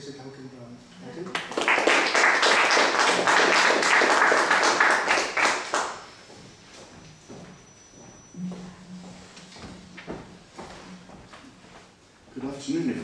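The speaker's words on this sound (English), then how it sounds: "please give a hand of applause to our colleague, Professor Duncan Brown" An audience applauds Professor Duncan Brown at a book launch. The clapping is loud and dense for about five seconds, then fades into scattered claps and light room noise.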